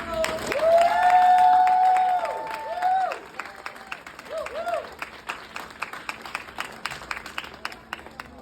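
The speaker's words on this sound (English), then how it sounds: "Y'all give me one more round of applause." Conference crowd cheering with loud whoops and shouts, then breaking into scattered rhythmic clapping that thins out into individual claps, fairly close and lively.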